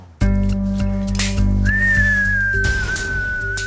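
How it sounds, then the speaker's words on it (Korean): A shaman whistles to open an exorcism rite in a house said to hold ghosts, a long sustained steady tone held for a couple of seconds over a low droning background. "휘파람 소리와 함께 퇴마의식을 시작하는 무속인."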